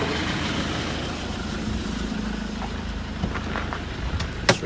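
A 2015 Land Rover Defender 130 engine idles with a low, steady rumble, with a few light clicks near the end.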